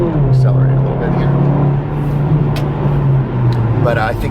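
A car's engine hums close by with a steady low drone that briefly dips and returns, under someone talking throughout.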